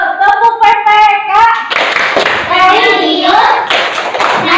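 A class of children claps in rhythmic bursts while chanting the PPK clapping routine in unison, loud and close, with voices dominating between sharp hand claps.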